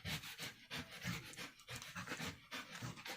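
An overweight dog pants steadily and rapidly at close range, a continuous rhythmic huffing of quick breaths with no talking over it.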